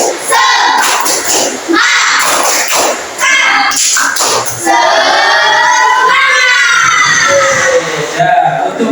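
A classroom of children shouts a loud, rhythmic spirit chant with claps, their many voices rising together in bursts near and full.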